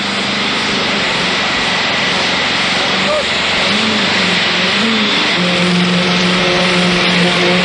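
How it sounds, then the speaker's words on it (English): Concrete vibrating machines bedding down freshly poured foundations on a 1987 building site in Queensland, Australia, a loud continuous mechanical drone with shifting engine-like pitch and someone talking over it. "These vibrating machines certainly help to bed down the foundations, don't they?"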